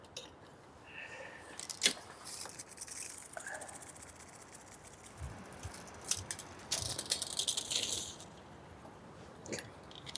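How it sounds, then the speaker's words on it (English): Reel-to-reel master tape spooling back on a tape machine, a busy fluttering whir with scattered clicks and ticks, close and moderately loud, with no talk. "Okay, so let's spool that back"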